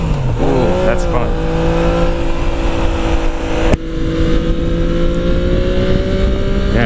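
A 2017 Yamaha FJ-09 motorcycle engine pulling hard while riding, loud and close, revs climbing steadily with a brief shift dip before rising again, wind rush throughout.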